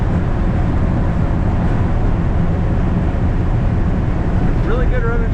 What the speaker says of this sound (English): We do have a bit of wind noise